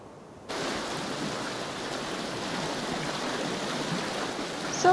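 Water rushes steadily past a sailing ship in the video game Pancake Sailor, a soft, even wash of broadband noise that begins abruptly and holds constant, with a faint blip at the end.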